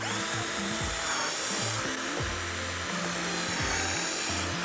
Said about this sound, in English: And then we can pre-drill with the drill those holes.